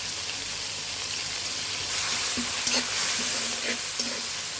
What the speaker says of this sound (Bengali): আমরা আদা রসুনটাকে ভালোভাবে ভেজে নিতে হবে